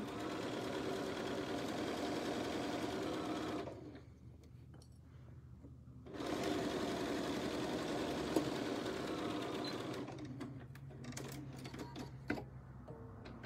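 Sewing machine stitching a zippered box bag runs in steady, quiet bursts of rapid rhythmic whirring and clatter, pausing briefly between runs, with no talking.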